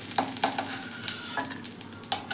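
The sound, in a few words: green chillies frying in oil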